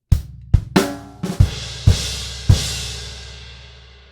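Drum kit playing a shuffled rock groove, with punchy bass drum hits and crash cymbal splashes ringing out, close and solo.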